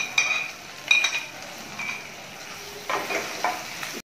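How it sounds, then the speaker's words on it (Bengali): Chopped garlic and ginger fry lightly in oil in a wok for chili chicken. A soft, low sizzle runs under a few sharp clinks of a utensil against the pan, with no talking. "আদা কুচি আর রসুন কুচি দেখ হালকা একটু ভেজে নেব"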